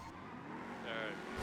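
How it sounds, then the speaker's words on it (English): Truck pulling away in the video game GTA V on the NoPixel roleplay server, a steady engine drone that swells toward the end, heard under overlapping talk. "Truck is taking off."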